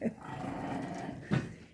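Puppies growling during rough play, a low rumbling snarl lasting over a second with a sharper yap near the end, fairly quiet and close.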